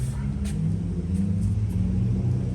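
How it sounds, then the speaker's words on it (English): Loud cars pass outside a garage where a stolen Acura Integra GSR is being restored, a heavy low engine rumble that swells and rolls on steadily for the whole stretch. "I don't know what's all these freaking loud cars today."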